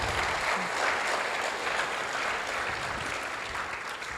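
A crowd at a liars' contest claps steadily for a kindergarten contestant, a dense moderate-volume patter of applause lasting throughout without a break.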